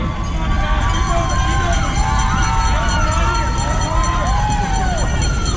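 Crowd cheering runners near a half marathon finish line on a downhill street, continuous whoops and shouts over a loud, rumbling outdoor hubbub with a nearby voice calling out.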